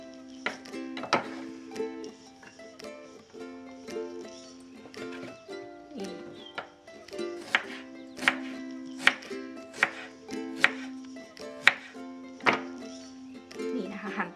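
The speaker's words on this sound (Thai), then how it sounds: "หั่นเป็นชิ้นเล็กๆแบบนี้" A knife chops rhubarb stalks into small pieces on a cutting board, crisp repeated strokes speeding up and growing louder, with a voice talking quietly underneath.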